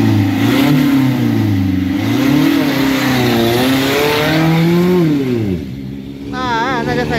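A 5-litre naturally aspirated, non-turbo drag race car accelerates hard down a 402 m drag strip in Bangkok, its engine note climbing and dropping through gear changes, loud and sustained.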